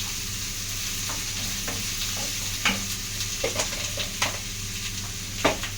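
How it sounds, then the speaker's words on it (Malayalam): Sliced onions with salt stirred in a frying pan, a constant sizzle under a low hum, with several distinct spatula scrapes and knocks growing more frequent toward the end, no talking. "ഇട്ട് കൊടുത്തിട്ട് നമുക്ക് നന്നായി ഒന്നും കൂടി മിക്സ് ചെയ്യാം."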